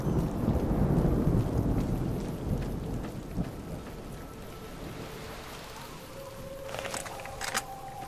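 Steady heavy rain pours down while deep thunder rumbles in the video game Fallout: New Vegas, loudest at the start and slowly rolling off, with a few brighter crackles near the end.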